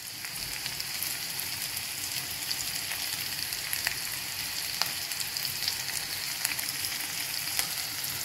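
Boiled potato pieces sizzle and crackle steadily in a hot pan, a continuous bright frying hiss with scattered pops, close up and with no talking.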